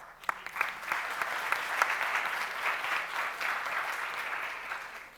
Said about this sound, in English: Please join me in welcoming her to stage with a round of applause.